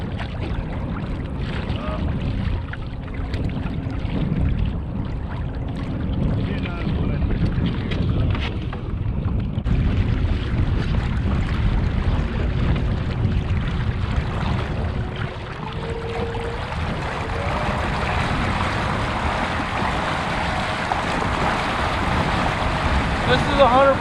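A TitanX 10.5 motorized kayak runs at full throttle on open water, a steady low engine drone mixed with wind buffeting and water rush that continues close and loud throughout.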